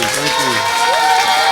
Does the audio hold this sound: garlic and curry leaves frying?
no